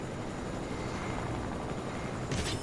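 A minigun helicopter in a spy-base video game gives off a steady, loud broadband rotor and engine roar that holds throughout, close and unbroken.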